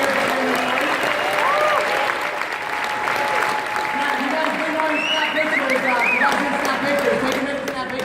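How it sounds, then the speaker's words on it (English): A live audience applauds loudly and steadily throughout, dense clapping with scattered cheers and voices mixed in. "can we give a huge round of applause here?"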